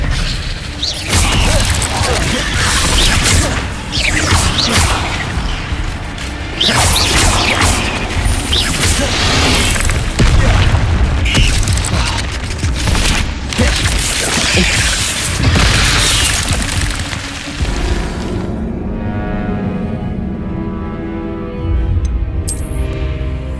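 Spell combat in the video game Hogwarts Legacy with fire and disarming spells cast, a dense run of booms, crashes and bursts layered over game music, loud throughout before thinning out near the end.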